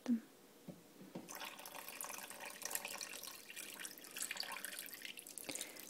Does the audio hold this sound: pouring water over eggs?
yes